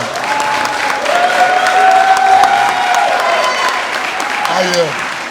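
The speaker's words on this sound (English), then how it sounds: "let's give Mayor Sherelle Parker a real big round of applause." Loud audience applause for a city mayor at an official welcoming event, a sustained burst of crowd clapping with some cheering and voices mixed in, easing slightly near the end.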